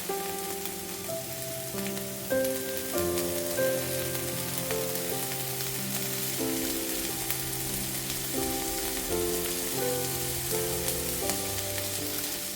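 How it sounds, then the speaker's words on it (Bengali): Vegetables and green chili sizzle steadily in a hot pan, a constant crackling hiss with music playing quietly underneath. "তারপরে এর মধ্যে এখন দিয়ে দিলাম ভাজতে"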